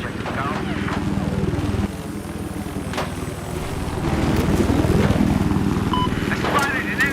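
Helicopter rotor and engine drone from a video game, a steady loud thrum that swells toward the end, with a voice talking over it.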